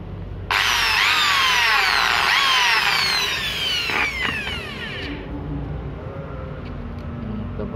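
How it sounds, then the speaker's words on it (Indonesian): A power drill bores into an aluminium cabinet door frame, a loud high whine starting abruptly and running steadily for about four and a half seconds, its pitch sweeping as the bit works, before cutting off to quiet room noise. "Kita bor dulu"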